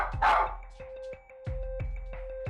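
Lulu, a small pet dog, lets out a rapid series of sharp yipping barks indoors, about eight close, loud bursts in a row with short gaps between them.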